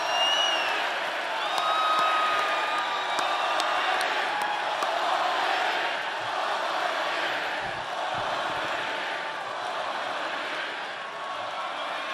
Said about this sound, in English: If you want 4 more years of President Trump. Let me hear you scream